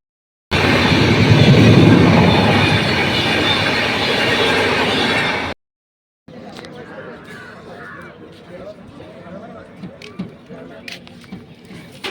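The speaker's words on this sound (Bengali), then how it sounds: "ট্রেন ঢুকছে লখনৌ জংশনে" The 13151 Jammu Tawi Express rolls into Lucknow Junction with a loud, steady rumble of wheels and cars for about five seconds. It stops abruptly and gives way to quieter platform ambience with scattered clanks and clicks.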